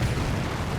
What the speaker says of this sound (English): Rifleman squad ran in, gets grenaded.